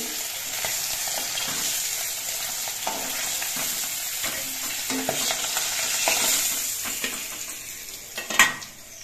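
Fish frying in oil in a pan, a steady close sizzle with light stirring and a metal clink near the end, no voices.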